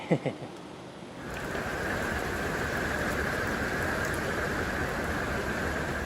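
Steady rain falling on a patio during the evening as Hurricane Ian passes, a soft, even hiss of drops that swells after the first second and continues at low level.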